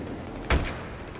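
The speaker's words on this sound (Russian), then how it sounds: "Он выдерживает такие выстрелы со снайперской винтовки" A single sharp sniper rifle shot in the video game Battlefield 3, loud and close, over a low steady background hum, followed by a faint electronic tone.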